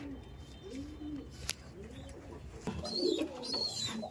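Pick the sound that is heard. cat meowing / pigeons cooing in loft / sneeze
pigeons cooing in loft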